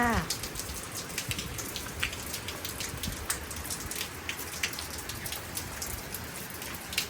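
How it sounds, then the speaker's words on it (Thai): Heavy rain pours down steadily, with drops spattering on surfaces nearby in a constant dense hiss. "ตอนนี้ ฝนกำลังตกค่อนข้างหนักค่ะ"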